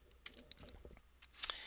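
Soft, quick keystrokes on a computer keyboard, a short irregular patter of clicks near the mic with a slightly sharper pair of taps at the end, over faint background hum.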